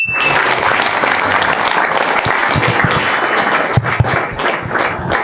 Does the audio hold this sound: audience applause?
yes